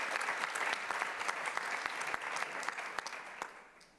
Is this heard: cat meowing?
no